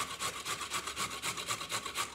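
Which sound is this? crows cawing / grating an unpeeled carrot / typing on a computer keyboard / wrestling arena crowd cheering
grating an unpeeled carrot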